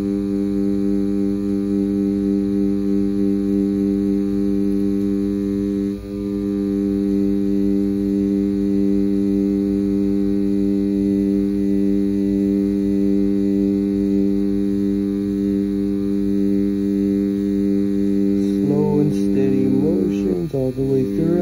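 A tattoo machine needle buzzes continuously while filling in script lettering, a steady, loud electric hum that holds without a break, with a brief murmur near the end.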